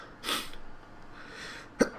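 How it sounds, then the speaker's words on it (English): One sharp, close sneeze bursts out near the end, after a brief breathy intake a moment earlier, with no talking over it. "And I got to sneeze."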